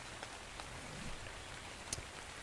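Steady rain falling in the video game Ark Survival Evolved, a continuous soft hiss with a few sharper drop ticks near the end, moderately quiet and with no voices.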